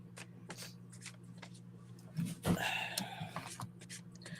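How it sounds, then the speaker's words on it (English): Tarot cards being shuffled by hand, producing a soft, steady riffling and sliding patter with a slightly louder burst midway, set against a low background hum. "So I'm shuffling for Dean for his question"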